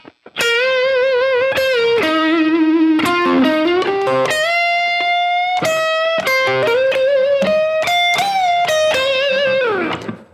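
A sustained, overdriven electric guitar plays a bluesy lead phrase with bends and held notes, loud and continuous for about ten seconds.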